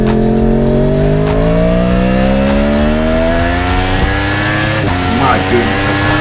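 The Dream R1 race car drives a race track with a loud, close engine whose pitch climbs steadily through the gears, a continuous roar with brief shift breaks and faint tire noise.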